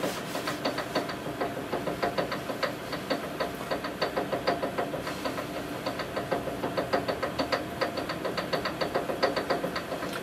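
A CNC spindle motor ramps up during Mach 3 speed calibration, giving a steady mechanical drone with a rapid, regular ticking pulse that holds through the whole stretch at moderate, even loudness, with no voices.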